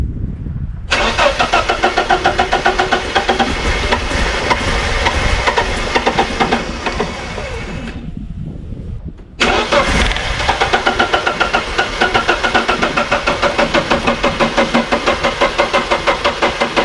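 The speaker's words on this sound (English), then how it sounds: "Now I will start the car and top up the fluid when it sucks it in." An E36 BMW Compact car engine cranks and fires up, then runs at a steady idle; it cuts out briefly and restarts, idling loudly and close by for the rest of the clip.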